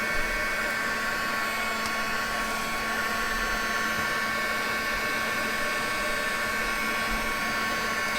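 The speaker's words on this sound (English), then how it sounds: "hit this with the heat gun a little" A heat gun blowing on a paper junk journal craft piece, a loud, continuous, steady airy roar with a faint whine, running unbroken throughout with no voices.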